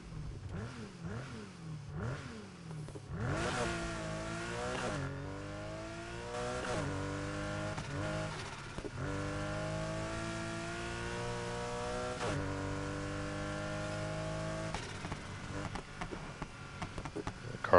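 Porsche 911 GTS engine in the video game Need for Speed Heat revving and pulling through repeated rising gear sweeps, with steady loud acceleration and shifts and no speech.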